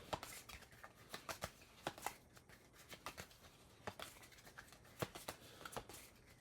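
A deck of cards for the Terraforming Mars board game being shuffled close up, with a steady run of quick riffling snaps and rustles and no talking.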